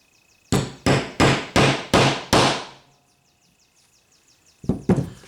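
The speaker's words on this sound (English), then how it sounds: "we're gonna punch it down, which requires a hammer" A hammer strikes a punch six times in a quick even rhythm to seat a carburetor plug on a Husqvarna 395XP chainsaw, loud and close, followed by a pause and two more sharp blows.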